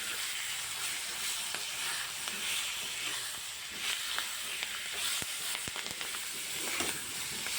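Slit green chillies frying in oil in a pan, a continuous bright sizzle and hiss with scattered clicks of stirring against the pan, close and steady with no talking.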